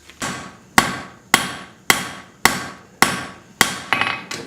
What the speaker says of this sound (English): I'll be comparing to as I'm forging the axe head out.